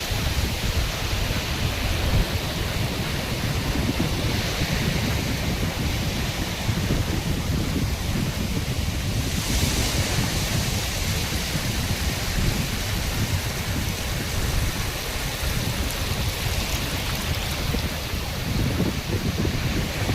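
Sea waves at Vayri beach in Malvan make a steady, loud, broadband wash that rolls on without a break, with no talk over it.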